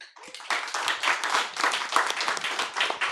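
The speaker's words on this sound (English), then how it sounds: "Round of applause." Audience applause at a film discussion event, steady dense clapping from many hands filling the room for a few seconds.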